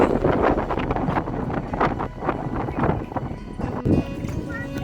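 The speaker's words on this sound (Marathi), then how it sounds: "खूप हवा सुटली" Strong wind at a hill-station ghat buffets the microphone in loud, gusty roars, with a voice talking over it throughout.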